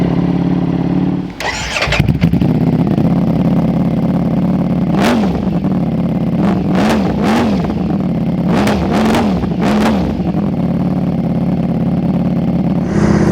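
A Ducati Panigale V4 sport motorcycle engine cranks and catches in neutral, settles into a loud idle, then is revved in a string of sharp, rising blips, close up.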